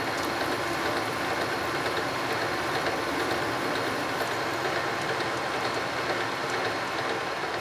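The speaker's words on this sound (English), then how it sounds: "let's cut this 3/4 inch cold roll steel bar" A lathe cuts a 3/4 inch cold rolled steel bar with a loud, unbroken machining roar that holds steady and dense from start to finish.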